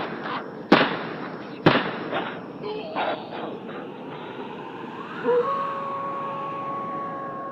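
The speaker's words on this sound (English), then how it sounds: "A few minutes later, Henry heard cries and 3 gunshots." Two sharp, loud gunshots crack in quick succession amid a muffled, noisy background, followed by a rising siren-like tone.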